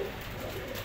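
Soft, low pigeon cooing from a group of healthy pigeons kept together, a steady muffled murmur at moderate distance with no speech over it.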